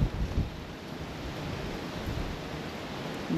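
Strong wind of around 100 km/h in New Zealand roars steadily against the microphone, a broad rushing noise with gusty swells at the start and end, no voices.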